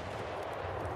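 Gunfire in the video game Escape From Tarkov comes as a brief, dense, continuous roar of shots, loud and close, with no talk over it.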